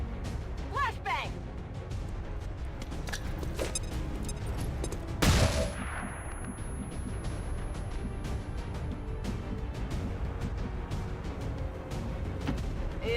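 A flashbang detonates amid sustained gunfire in the video game XCOM 2: War of the Chosen, a sharp burst standing out from a dense, continuous clatter of shots and effects, with voices talking over the action.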